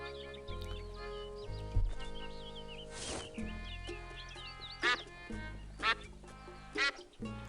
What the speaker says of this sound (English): I like that you can make the duck quack.